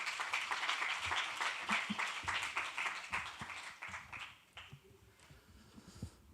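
Audience applause at a forum on education, dense clapping from a crowd that stays steady for several seconds, then thins out into scattered claps.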